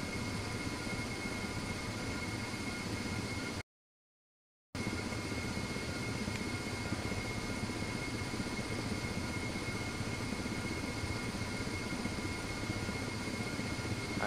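Steady, loud rotor and turbine drone of a Ka-50 Black Shark helicopter in the DCS flight simulator, continuous and unvarying apart from a short total dropout about a quarter of the way in.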